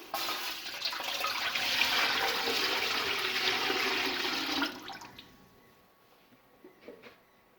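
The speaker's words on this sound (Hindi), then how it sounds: "इसमें पानी डालेंगे।" Water pours into a cooking pot (degchi) while fried rice is being prepared: a steady, fairly loud rush for about four and a half seconds that stops abruptly, followed by a few faint clinks and drips.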